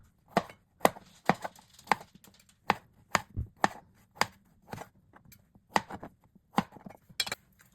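Knife slicing small peeled potatoes in half on a cutting board, a series of crisp, distinct chops in an uneven rhythm, close and clear with no talking.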